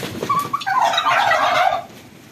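Turkeys, the kind kept for eating, gobble loudly and close by in a quick rattling burst that trails off into quieter calls near the end.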